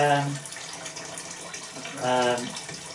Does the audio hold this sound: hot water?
yes